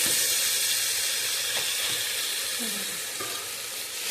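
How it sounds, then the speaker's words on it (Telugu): Fish pieces with green chillies sizzle steadily in a hot pan with oil. The broadband frying hiss stays continuous and close throughout, easing slightly toward the end, with no talking. "చేపలు కొంచెం ఫ్రై కావాలి"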